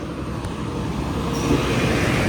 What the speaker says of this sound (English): Here comes the trash truck now.